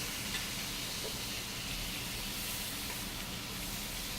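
Meat sears in a hot pan with a steady, even hiss and sizzle that continues unbroken throughout, with no talk.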